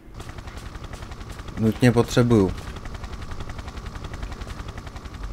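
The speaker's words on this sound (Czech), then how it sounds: "Vrtulník." Tomb Raider III gameplay with a helicopter and gunfire: a rapid, steady mechanical rotor-like pulsing runs throughout, while someone speaks briefly over it partway through.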